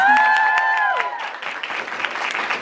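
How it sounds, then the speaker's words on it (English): Audience applause at a cosplay competition during York Comic Con: a few sustained tones fade out in the first second, then a dense, steady wash of crowd clapping carries on to the end. "Huge round of applause to my co-host today"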